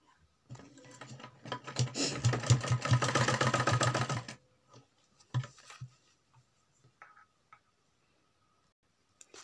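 A sewing machine stitches fabric for a suit, a fast rhythmic clatter running for about four seconds before stopping, followed by a few faint scattered clicks and a quiet room.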